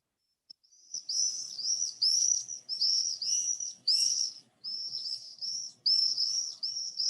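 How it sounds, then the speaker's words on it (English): Swifts screaming in a recording played during summer birdwatching in South Devon, a run of shrill high-pitched screeching bursts in rapid succession, fairly close and loud, with short gaps between calls and no talking. "I think I'm just going to put some swift noises on in the background for you."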